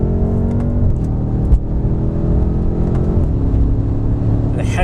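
A BMW M5 (F90) engine pulls and revs on the road, its deep harmonic growl rising and dipping in pitch as the car accelerates, loud and close for the whole stretch.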